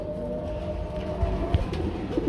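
Pigeons kept for sale coo softly in low, rolling tones, with a few short calls overlapping against a steady background hum and no talking.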